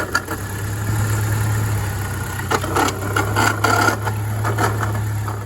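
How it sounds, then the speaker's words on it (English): A Jeep idling with a steady low engine hum while its failing power steering pump adds an odd whining, rattling noise in irregular bursts over the drone, close by and with no talking. "power steering pump was making some weird noise"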